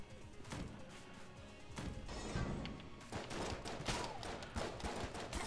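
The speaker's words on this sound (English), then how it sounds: "Shoot and strafe, shoot and strafe." Rapid bursts of cartoonish video game gunfire from Enter the Gungeon, dense overlapping shots and impacts crackling continuously and loudly with no talking over them.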